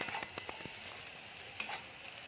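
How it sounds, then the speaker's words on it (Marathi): Chopped onion sizzles in a hot pan while it browns for a masvadi and rassa curry. A steady close hiss carries several sharp stirring clicks near the start and one more later, with no talking. "कांदा आता असा भाजून होत आलेला आहे"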